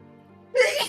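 A single sneeze bursts out partway through, loud and close relative to the quiet murmur before it, with a brief breathy tail, during a tabletop role-playing game session.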